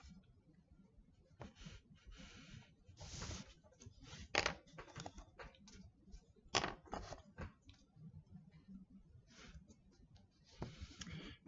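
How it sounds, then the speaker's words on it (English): Crayon tracing shapes on paper, soft scratchy strokes in short irregular bursts with pauses between them, faint and close against a quiet room. "I'm going to also trace the shapes themselves with the crayon"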